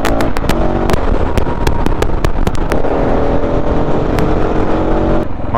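Motorcycle riding along a road in Croatia, heard from the bike: a loud, steady engine drone under heavy wind rumble, with sharp clicks and pops scattered through the first few seconds and no one talking.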